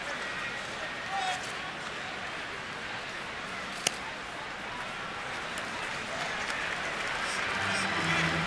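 A big home crowd at an Atlanta Braves versus Washington baseball game applauds in a steady broadband roar that swells slightly toward the end, with a commentator's voice running underneath.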